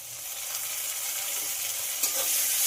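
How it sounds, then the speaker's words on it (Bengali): Ginger garlic paste sautéing with chopped onion and tomato in a pan, a close steady sizzle with a brief scrape of stirring near the end, no voices. "আদা রসুনটা খুব ভালো করে কষিয়ে নিতে হবে"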